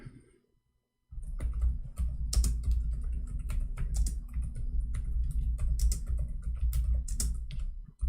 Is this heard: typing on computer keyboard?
yes